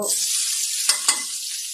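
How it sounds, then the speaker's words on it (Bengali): Constant hiss of oil heating and sizzling in a wok, with two sharp pops or taps near the end. "কড়াইতে তেল গরম হচ্ছে"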